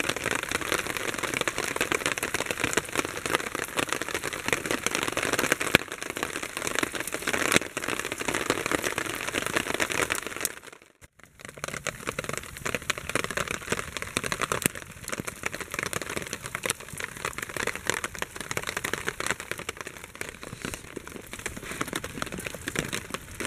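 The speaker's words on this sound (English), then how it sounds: "unfortunately the rain has not stopped" Heavy rain pours steadily on a bushcraft shelter in the woods, a dense crackling patter on the tarp and surroundings, dropping out briefly midway before resuming as strongly as before.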